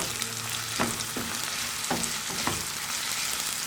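Shredded cabbage with salt frying in a pan for a Spanish omelette, a continuous close sizzle broken by four or five quick spoon strokes against the pan.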